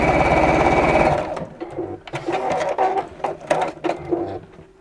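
A sewing machine runs a fast steady burst stitching a seam, then stops, followed by a scatter of clicks and handling knocks close by.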